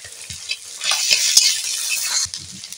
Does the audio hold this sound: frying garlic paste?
yes